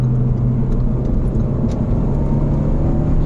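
An old Renault Megane R.S. accelerating, its engine a steady loud droning hum heard from inside the cabin, pulling evenly without sharp revs.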